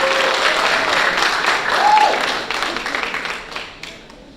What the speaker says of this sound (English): I'd like to everybody give a round of applause for him